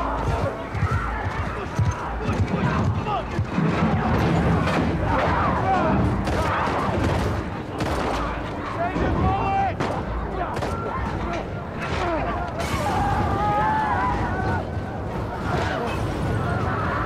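Gunfire rattles through The Last of Us Part II video game while riding on horseback, with repeated shots and thuds mixed among game sounds under almost constant talking.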